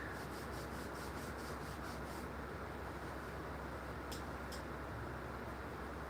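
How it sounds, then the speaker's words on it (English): Steady rubbing and scrubbing to remove oil and tape residue from a surface, a continuous close abrasive swishing with no pauses and no talk. "trying to rub off all the residue"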